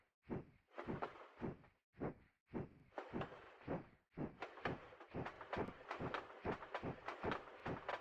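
A train rolls along in the Peppa Pig Fun Fair video game, producing a series of rhythmic, evenly spaced rumbling chugs that grow denser and steadier toward the end, close and fairly quiet with no talk.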